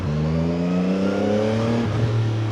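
CFMoto 675SR-R (2025) sport motorcycle engine under way, a steady mid-pitched drone with rising harmonics as revs climb, then a brief dip near the end, close and continuous with no talk.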